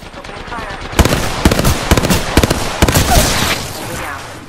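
Gunfire in Apex Legends rattles in quick bursts of sharp shots over constant game background noise, mixed with brief spoken voice lines.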